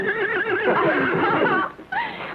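A blonde horse gives a loud, close whinny with a wavering, quavering pitch lasting over a second, a short pause, then a brief second neigh, with no other sounds around it.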